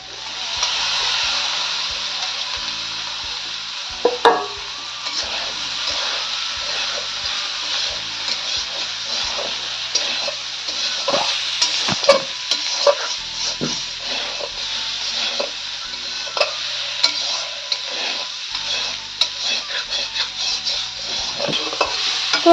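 Steamed jackfruit stir-fried with spices for a jackfruit and prawn dish, giving a loud, continuous sizzling hiss broken by repeated sharp clacks and scrapes of a spatula against the pan, with no one talking.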